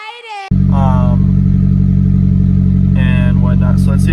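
A boosted Honda Civic fitted with a Y7 throttle body runs loud and close, holding a steady, droning engine note after it abruptly kicks in, with brief talking over it.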